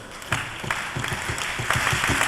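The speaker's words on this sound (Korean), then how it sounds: "다음은 337 박수 말고 그 야구장에 가면은 자주 쓰는 박수." A crowd at a 1999 university student convention closing ceremony claps in unison in a baseball-stadium style pattern, sharp group claps landing in a regular, repeating rhythm over a background of crowd noise.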